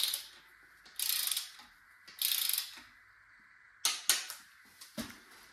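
A hand ratchet cranks down the rocker arms on a 5.3 engine in short bursts of clicking, three quick runs and then a few sharper single clicks, close and clear with no talk.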